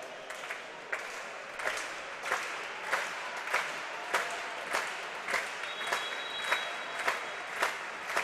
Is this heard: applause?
yes